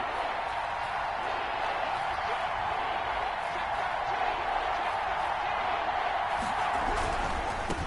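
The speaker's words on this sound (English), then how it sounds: "the crowd getting into it as we come up on a big 3rd down" Football stadium crowd at a Titans versus Seahawks game roaring in a broad, steady wash of cheering ahead of a big third down, sustained and fairly distant, with commentary talk faintly beneath it.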